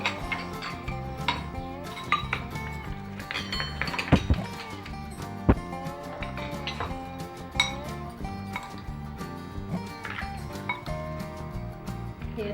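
Chaat ingredients are spooned into chaat bowls, making soft repeated clinks and taps of a spoon against the dishes, with a few sharper knocks, close by and quiet.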